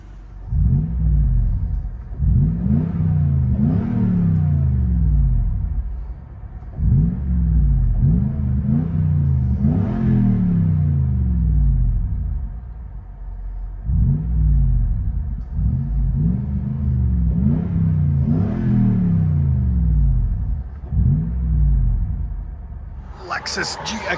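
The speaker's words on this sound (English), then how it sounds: "Lexus GX470 with a carbon TR muffler, stock resonator, stock tailpipe, stock cats, carbon TR muffler swap." Lexus GX470 4.7L V8 fitted with a Carbon TR muffler, stock resonator, cats and tailpipe, heard from inside the cabin: repeated revs swell into a deep booming drone and fall away, loud and steady with brief gaps between pulls.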